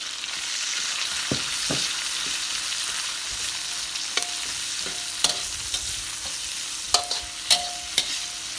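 Salted mackerel dish ingredients being stir-fried over low heat in a pan, a steady sizzle with scattered sharp clinks of a utensil against the pan, close and moderately loud, no talking.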